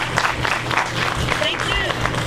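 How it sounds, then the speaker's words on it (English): An audience at The Jewel claps for two guests before a Street Medicine documentary screening, a lively round of applause with scattered cheers and murmured voices mixed in. "So, please, give a round of applause to two heroes, two of my heroes,"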